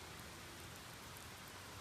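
Heavy rain pours down in a dense, uniform roar of drops striking surfaces, faint and continuous without a break.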